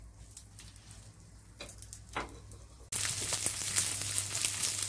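Chorizo hits a thin film of hot oil in a frying pan and bursts into a loud, steady sizzle with fine crackles, following a quieter stretch of light clinks and stirring.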